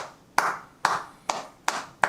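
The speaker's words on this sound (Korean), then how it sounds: "박수 한번 쳐주고 싶네" Five slow, deliberate hand claps from one person, close and crisp, evenly spaced with brief room echo after each.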